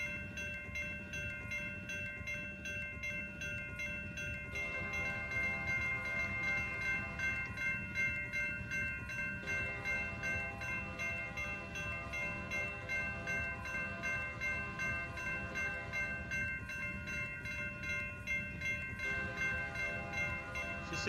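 Train horn and railroad crossing bells in the Trainz video game: a steady rumble of a passing train with sustained horn tones and repeating bell chimes layered on top for most of the stretch.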